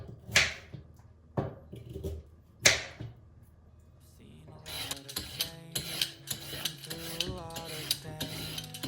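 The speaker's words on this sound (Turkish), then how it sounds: "havuçları güzelce ben tek tek doğrayacağım ve soyacağım" Rough scraping strokes of carrots being peeled rasp several times, close and distinct, followed by background music with more rhythmic scraping underneath.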